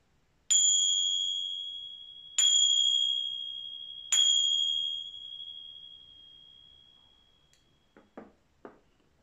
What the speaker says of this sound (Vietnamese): Sau đây khi nghe 3 tiếng chuông thì chúng ta sẽ bắt đầu vào giờ giảng.